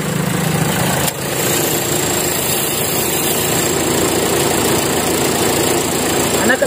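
A 2013 Nissan Sunny XV petrol car sits idling at close range, its engine giving a steady, even hum with a brief dip in level near the start and no talk.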